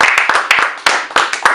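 A small group of people clap in a basement radio studio, a loose run of sharp, close handclaps with uneven rhythm across a short burst, loud and near.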